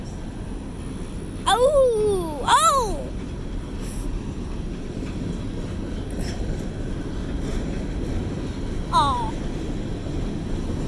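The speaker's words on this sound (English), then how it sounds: "I think it's a coal train." A slow coal train with many coal cars passes, giving a steady, continuous rumble throughout while onlookers let out a few short exclamations over it.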